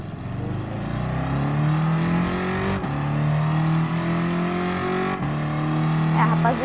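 A Toyota car engine, apparently a 1965 Sports 800 in a racing game, revs steadily and loud throughout, with rising and falling pitch and two brief dropouts as gears shift.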